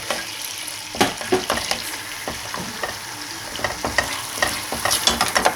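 Garlic sautéing in melted butter in a cooking pot, a close steady sizzle broken by frequent scraping stirs and light clinks, with no one talking.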